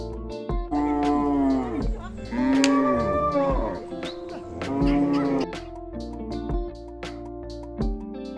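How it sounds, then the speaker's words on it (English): A cow moos loudly and close, three long drawn-out calls with short pauses between them, each call rising and then falling away, and no other sounds around them. "Cow."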